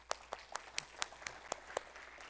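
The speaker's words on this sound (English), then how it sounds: "let's give our visitors a round of applause" At a church service, a few sharp, sparse claps ring out about every quarter second, faint and echoey, as a congregation applauds its visitors.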